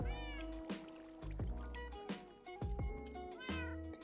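Several meows from a cat in the Minecraft video game come in a quick series, close and clear, over a faint game background.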